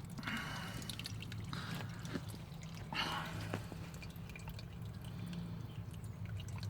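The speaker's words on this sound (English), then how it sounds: "So it's gonna drip feed for a bit, I think." Fuel drips from the tank of a VR/VS Commodore ambulance during a fuel sender pump repair, giving faint, irregular drip and trickle sounds over a steady low background hum, without talk.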